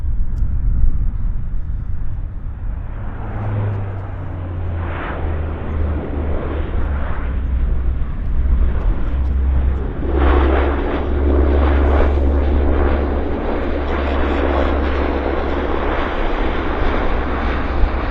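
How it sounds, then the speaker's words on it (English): A Pacific Coastal Saab 340 turboprop lands at Vancouver Airport, its engine drone and low rumble growing steadily louder and fuller as it nears, heard alone and fairly close. "Saab 340 of Pacific Coastal. Setting up for a landing right here."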